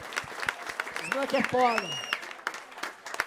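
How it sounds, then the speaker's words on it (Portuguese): Crowd at a semifinal rap battle in Barueri clapping and cheering, scattered claps under loud excited shouting and a voice speaking over the noise. "palmas pra essa batalha"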